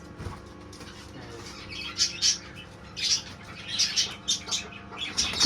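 Partridge calls and sharp chirps come in short bursts, with soft wing fluttering and rustling between them, close by and fairly quiet.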